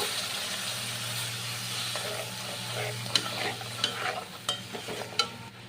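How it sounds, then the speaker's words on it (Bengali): Spices and dissolved coconut powder sizzle and hiss softly in a pan as a spatula stirs, with a steady low hum underneath and scattered scraping clicks toward the end; no one speaks. "ভালো করে আমি কষিয়ে নিয়েছি"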